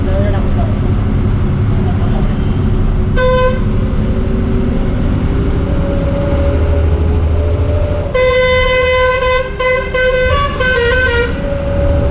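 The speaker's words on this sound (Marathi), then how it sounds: "जबरदस्त हॉर्न तर काय एक नंबर असत." A bus horn on a road toward Panvel blares in long musical blasts, a short one early and a longer repeating pattern later, loud and close over steady engine and road rumble.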